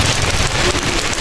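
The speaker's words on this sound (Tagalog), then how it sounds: "Pagkahapon sobrang lakas ng ulan." Heavy afternoon rain pours steadily onto a surface outdoors near a garden, a loud dense continuous roar of drops with no voices.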